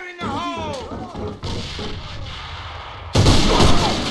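A grenade explosion in the shooter game Alliance of Valiant Arms: a sharp, loud blast with a rumbling tail. A voice calls out over the start, and a second burst of gunfire or explosion follows near the end.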